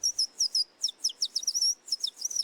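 A man whistles an imitation of birdsong, sharp repeated high chirps and downward-sweeping tweets in quick rhythmic bursts, close and clear over a quiet outdoor background in the mountains of Itarana.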